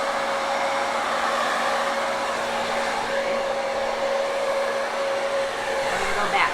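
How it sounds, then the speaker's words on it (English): A hairdryer blows steadily on poured paint on trivets and coasters, a continuous whirring whine with a faint tonal hum, close and even throughout. "So turn on your hairdryer."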